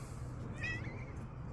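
A cat gives a single short, close meow, with low room noise beneath it and no talking.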